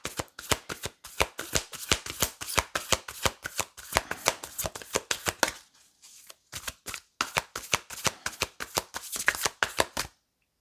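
Tarot cards shuffled by hand make rapid, rhythmic flapping riffles with a short pause midway, then resume, close and crisp.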